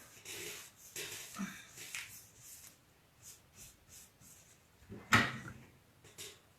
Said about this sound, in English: I can pretty much safely close that door.